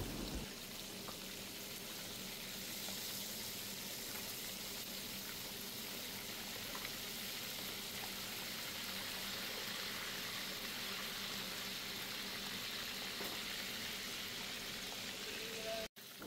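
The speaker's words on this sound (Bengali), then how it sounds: "মাছটা যখন এক সাইড ভাজা হয়ে যাবে মাছটা ঘুরিয়ে নিব।" King fish fillets frying in a pan, a steady broadband hiss of oil that holds evenly throughout, close and moderately loud, cutting off abruptly at the very end.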